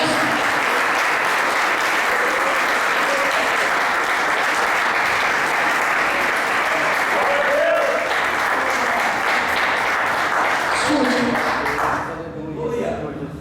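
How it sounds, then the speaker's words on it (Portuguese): Loud, sustained applause from a large church congregation, dense and continuous for many seconds, with voices mixed in before it fades at the end. "aplauda o Senhor aqui essa noite"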